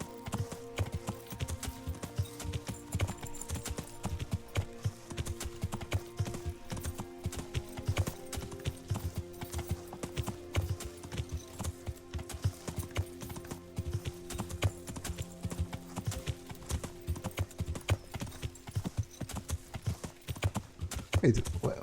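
Horse galloping in Kingdom Come: Deliverance, a steady rapid clip-clop of hooves on the ground, close and continuous throughout, with a faint snort or whinny mixed in.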